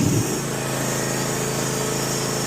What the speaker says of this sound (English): next thing to do is start it up and make sure everything's working